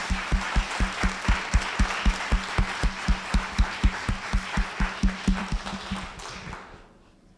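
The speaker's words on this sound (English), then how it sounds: "I'd like to give a round of applause to all our panelists and to the Firewise community" Audience applause at a Firewise community meeting in Tehaleh, with sharp periodic clap-like beats over a steady wash of clapping, fairly close and loud, fading out at the end.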